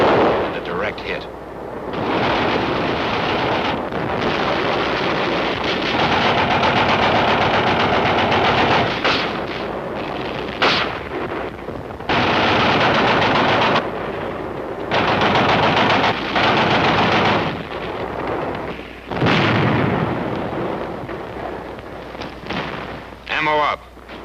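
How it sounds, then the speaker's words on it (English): Firing of a 75 mm recoilless rifle in the Korean War, with a direct hit on target: loud, broadband blasts and bursts that start and stop repeatedly over a sustained stretch, mixed with other battlefield fire. "The 75 recoilless rifle. And a direct hit."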